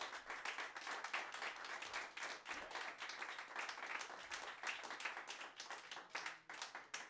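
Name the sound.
audience applause for guitarist joining stage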